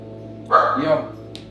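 A big dog gives a single loud, close bark-like woof that trails off briefly, in a quiet indoor setting.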